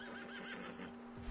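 A horse in the video game Red Dead Redemption 2 whinnies with a wavering, fluttering call over a steady electronic hum, short and fairly close.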